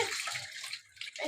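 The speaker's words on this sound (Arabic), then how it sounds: "هنجيب بقى شويه ميه سخنين حلوين كده" Warm water is poured into a vinegar cleaning mixture, a close, bright splashing stream that briefly dips and then resumes, with no talking.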